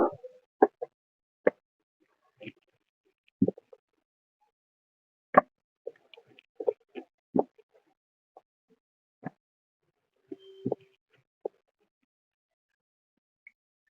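Paratha dough being rolled out with a rolling pin in a home kitchen: sparse, soft close-up taps and knocks, irregular and separated by quiet gaps.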